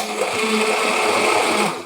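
Immersion blender mixing banana and eggs, a loud, steady high-pitched motor whir with churning food, running continuously for about two seconds before easing off, with no talking.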